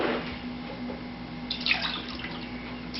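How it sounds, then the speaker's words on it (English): Water is poured into a bowl of homemade slime mixture, giving a soft splashing trickle with a brief louder burst midway over a low steady hum, close by and without talking. "So after that, you pour the water"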